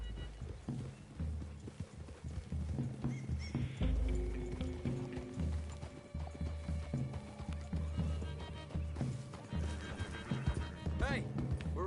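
Horses in Red Dead Redemption 2 whinny and neigh while their hooves clip-clop steadily in a wooded clearing, under a dense, continuous mix of game sound.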